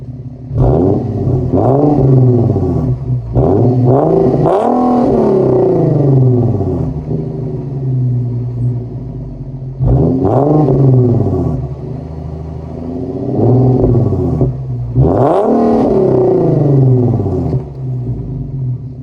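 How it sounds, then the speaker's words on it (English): An Infiniti Q50 with a 3.7-litre VQ engine and a muffler delete gives several short, loud revs, each rising to a raspy roar and falling back to a rumbling idle, close to the car. "I'm gonna give y'all these little baby refs so y'all can hear what the muffler delete sound like"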